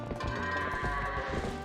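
Goat in The Legend of Zelda: Twilight Princess giving a short, loud bleat over background game music, alone without talk.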